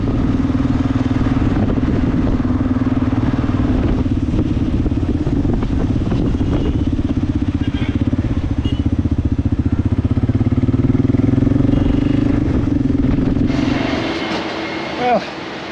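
A motorcycle rides on a road heading north from Pune, India, with a steady loud engine drone and wind rumble lasting throughout that eases slightly near the end.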